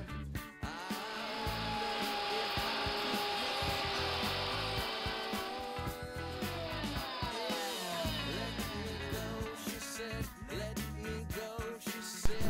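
A wood router cuts into wood while a toy airplane is being built, a continuous whining, rasping machine drone that holds steady for the whole stretch, with no voices over it.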